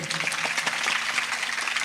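Audience applause at a Chhattisgarhi-language family cultural performance, dense steady clapping filling the full stretch at moderate level, with no voices heard over it.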